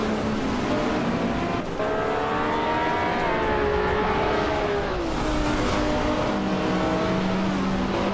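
A Lancia Stratos Turbo race car in a racing video game, its engine droning loud and continuous, pitch rising and falling through gear changes, with a faint tyre squeal.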